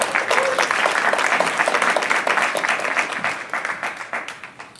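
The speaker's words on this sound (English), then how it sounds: "So let's give him a round of applause." An audience at a leadership symposium panel on elected office gives a round of applause, loud and dense at first, then thinning into scattered claps as it winds down.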